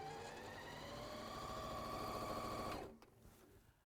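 A threaded domestic sewing machine runs steadily at close range for nearly three seconds, a smooth, fairly quiet mechanical hum with a fine rhythmic whirr, then stops and falls to near silence.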